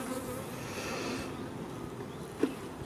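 A steady buzz of honeybees at their hives hums throughout, with a brief sharp knock near the end; no voices.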